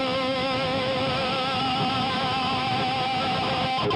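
Distorted electric slide guitar sustains a buzzing, saturated note, with undamped string noise ringing through as a dense background wash for several seconds, played alone.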